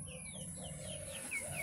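Chickens cluck softly in a backyard coop, faint and continuous against a quiet outdoor background.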